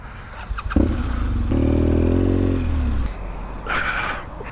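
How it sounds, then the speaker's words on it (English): A motorcycle at a Lake District rideout is moved up close, with clatter and a scrape, then its engine holds a steady idling rumble for a couple of seconds before cutting out, followed by more handling noises. "I'll move my bike somewhere."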